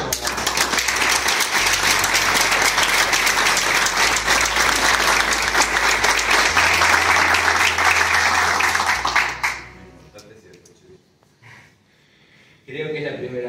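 An audience greets a speaker with strong, sustained applause lasting about ten seconds over a low hum, then fading into quiet room noise before talk resumes.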